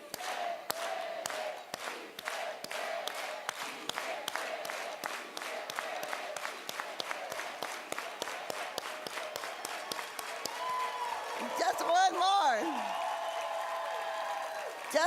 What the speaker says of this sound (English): let's all do it together with an organized hand clap